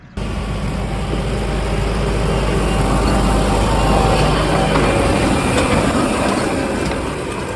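A Fendt 516 tractor with a four-cylinder engine hauls a Claydon 3-metre seed drill across a field, giving a loud, steady low engine drone with mechanical rumble throughout.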